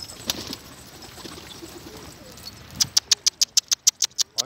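Pigeons on a rooftop make soft fluttering and scuffling sounds, followed by a quick run of about ten sharp, evenly spaced clicks or claps near the end, fairly close but not loud.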